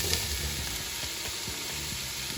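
Onions, garlic and peppers sizzle steadily in hot coconut oil in a pan, a continuous close frying hiss with a few faint stirring scrapes and no talk.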